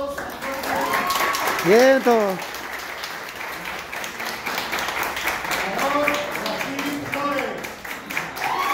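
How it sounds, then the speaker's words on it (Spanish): A crowd claps for two performers during a caged lion act, lively applause mixed with cheering voices and someone speaking over it. "Un aplauso para los dos"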